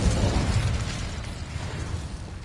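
A fiery explosion burst from an Incendio spell, a dense, roaring blast of broadband noise that stays loud and rumbling before easing slightly.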